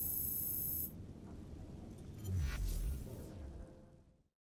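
A muffled, rumbling blast from the Assassin's Creed Syndicate game, in which a Piece of Eden detonates inside a lab. A low boom and a whooshing rush swell midway, then fade into a dull roar and cut to silence.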